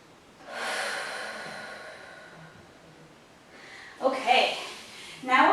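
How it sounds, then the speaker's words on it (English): Long, deep breaths drawn in and let out slowly during a Pilates exercise, soft and close, with a fuller breathy exhale near the end. "Just breathe into the lower back like you're trying to fill it with air. Nice long breaths."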